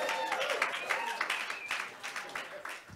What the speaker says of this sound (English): Why don't we clap for our city?